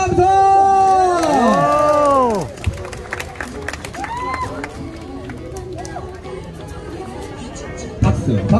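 A crowd at a street busking show in Hongdae, Seoul, cheers and chatters loudly at first, then settles into a lower murmur with scattered voices and a brief swell again at the end.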